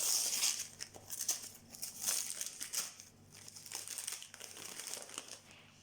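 Christmas gift wrapping paper crinkling and rustling up close as a present is opened, irregular crackling handling noise in several bursts, no voices.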